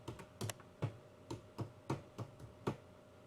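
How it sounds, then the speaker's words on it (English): Typing on a computer keyboard at a desk, about ten soft, evenly spaced key clicks in a steady rhythm, close and quiet with no talking. "So let me just type in here my site."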